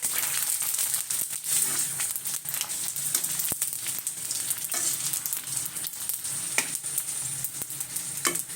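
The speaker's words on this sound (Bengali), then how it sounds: "এগুলো ভাজার সাথে সাথে অনেক সুন্দর মচমচা হয়ে যায়" Fuchka shells sizzle and crackle in hot oil in a home kitchen pan, a close, continuous frying hiss broken by sharp pops and the scrape of stirring.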